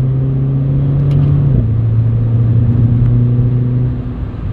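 A Renault Clio IV RS Trophy engine, 220 horsepower, drones loud and close, its pitch shifting as it accelerates through a corner and then settles, steady throughout with no voices.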